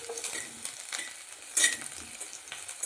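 Chopped garlic and ginger sauté in hot oil in a wok for hot and sour soup, a crackling sizzle punctuated by scraping stirs and one sharp utensil clink near the middle.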